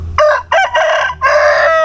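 A male chicken, a rooster, crows loudly and close by in one long, full cock-a-doodle-doo broken into several drawn-out phrases, with no talk over it.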